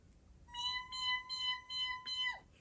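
A human voice imitates a newborn kitten's cry with a thin, high, sustained mew that ends in a slight downward slide, heard close and alone against quiet.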